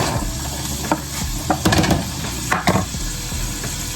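Onions cooking in a pan as the start of a sauce for a salmon marinade, a steady close sizzle with occasional sharper clicks and scrapes from a utensil, no talking.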